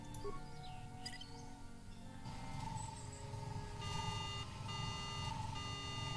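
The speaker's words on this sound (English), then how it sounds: "slice into the speeder and activate its alarm system" A speeder's alarm system going off in the game Knights of the Old Republic, a steady electronic beeping and warbling tone sounding continuously over a low ambient game background.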